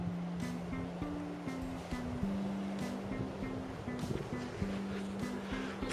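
Ocean surf washing onto a beach makes a steady, textured hiss, with a sustained melodic tone layered over the waves throughout.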